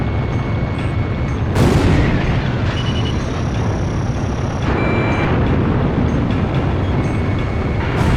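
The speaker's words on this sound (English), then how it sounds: "Release all bombs before you get shot down." Bombs exploding in the PS2 combat flight game Ace Combat Zero: The Belkan War, a dense continuous roar of blasts and rumble with a sharp burst partway through and steady tones from the game layered over it.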